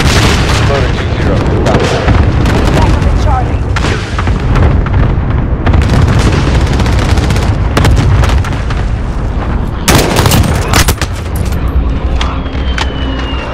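Cluster strike explosions in Call of Duty Modern Warfare, a dense barrage of booming blasts and bursts rolling continuously through the battle, loud and near, with a heavier cluster of impacts late on and radio chatter mixed in.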